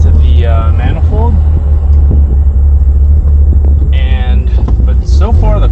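Mitsubishi Evo 8 RS idling with an exhaust leak under the hood, a loud close low rumble running steadily throughout while someone talks over it.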